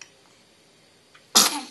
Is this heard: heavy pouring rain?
no